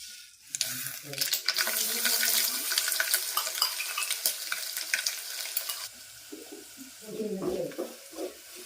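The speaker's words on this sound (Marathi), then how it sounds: "आता पटकन फोडणी देऊया" Sharp crackling sizzle of tempering spices hitting hot oil, bright and busy, easing off midway as a few faint clinks and low sounds follow.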